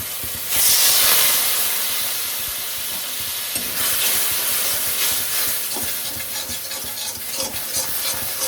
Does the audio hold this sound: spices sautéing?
yes